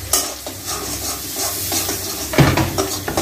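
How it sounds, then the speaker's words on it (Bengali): Fish frying in a pan with onion, green chili and spice paste while being stirred, a close sizzle under repeated scraping of a spoon against the pan, one louder scrape near the end, no voices. "মাছটা কষাই নিচ্ছি"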